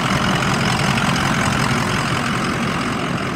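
A 2006 Ford E-450 Blue Bird bus engine idles steadily with a dense, even rumble, close and loud, unbroken throughout.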